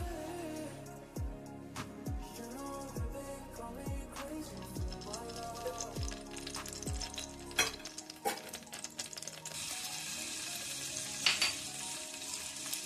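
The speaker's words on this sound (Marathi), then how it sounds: "आपण आपला चिकनचा मसाला इकडे भाजून घेऊया कढईमध्ये" Chicken masala roasting in a kadhai sizzles and crackles continuously while a spoon scrapes and stirs it in rhythmic strokes, with brief clanks of the utensil against the pan.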